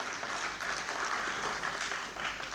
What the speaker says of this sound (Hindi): मैं चाहता हूं कि ज़ोरदार तालियां एक बार रिजवान भाई के लिए बजा दी जाए।